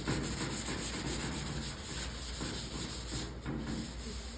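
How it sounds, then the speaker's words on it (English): Hand sanding of car body work with 180 grit sandpaper along a body line, a steady close scratchy rubbing that continues without pause and with no talk over it. "So this is 180, and we would sand it out with that."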